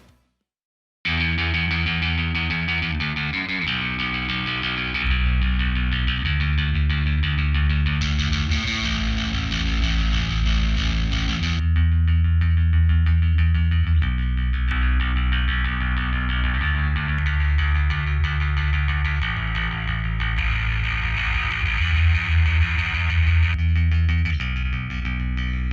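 STL Tonehub bass preset plays a sustained, distorted bass guitar riff with a thick low end. Phrases shift every few seconds and run steadily for about 25 seconds, with no talking.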